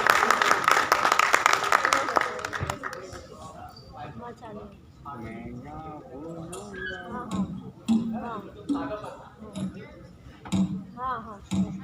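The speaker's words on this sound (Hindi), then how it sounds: "मैं चाहता हूँ आपकी जोरदार तालियां इनका मंच पर स्वागत" A burst of audience applause for singers coming onto the stage at a hall event fades after a couple of seconds, followed by someone talking with scattered background noise.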